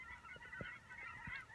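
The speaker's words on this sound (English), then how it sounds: "Look at this, all the geese here." Geese honk faintly in the distance, a few short scattered calls in a quiet outdoor setting.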